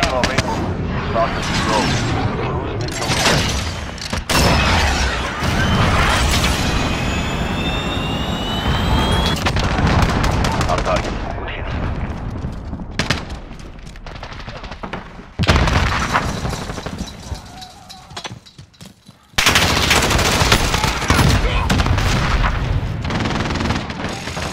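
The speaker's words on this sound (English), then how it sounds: "Allied cruise missile launched." Call of Duty multiplayer battle with a cruise missile strike: loud booming explosions and bursts of machine-gun fire come in dense, uneven waves with brief quiet gaps, and voices talk intermittently through the chaos.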